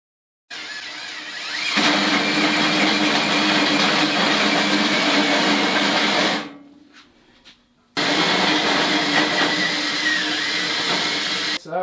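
A hole saw grinds through a metal tube during a Volvo Amazon frame build, producing a loud, harsh continuous whir that stops briefly and then resumes just as strongly.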